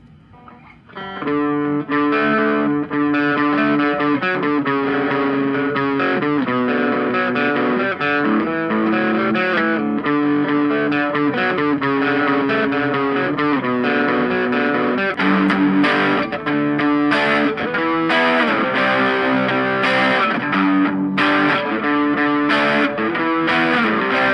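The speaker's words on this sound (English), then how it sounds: "So here's the amp sounds like in drive mode." A Flatsons FBA-10 mini guitar amp on its drive channel plays a continuous distorted riff, gritty and loud, with steady chords and picked notes throughout.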